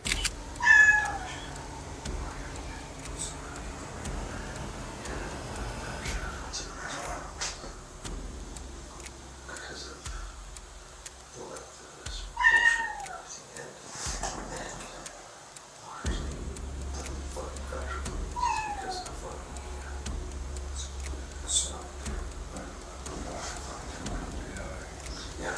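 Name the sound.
stray cat meowing in the distance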